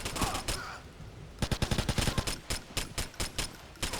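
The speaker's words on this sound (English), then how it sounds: "Shooting circles around this guy's head." Gunfire in GTA Vice City rattles in rapid bursts, a quick string of loud close shots after a brief pause, with short gaps between volleys.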